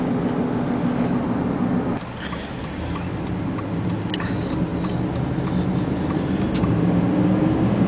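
A car drives along an Ohio road, a steady low engine and tire rumble heard from inside, with light ticking and clicking sounds scattered over the constant road noise.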